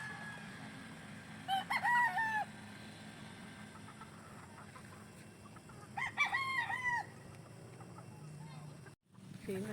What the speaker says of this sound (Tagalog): Lusog na ang mga manok.